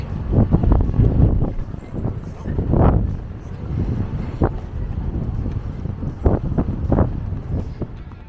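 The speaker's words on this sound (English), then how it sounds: "It's very windy out on the dock here." Strong gusting wind buffets the microphone on the Perfect Day at CocoCay cruise dock beside the Voyager of the Seas, loud and continuous with rough bursts, while people talk nearby.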